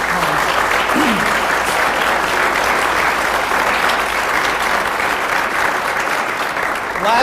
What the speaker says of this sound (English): give them a round of applause for